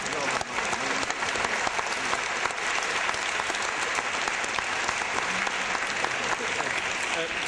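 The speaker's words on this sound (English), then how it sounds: "Now, do we applaud to you also?" A lecture audience at Princeton applauds Slavoj Žižek and Cornel West in sustained, dense clapping that holds steady for several seconds, with a few faint voices mixed in.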